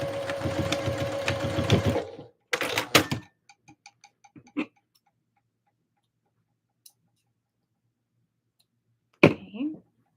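A sewing machine stitches a Christmas dress in a rapid, dense burst, then stops; a few short runs and light ticking clicks follow amid quiet gaps, all close and fairly soft.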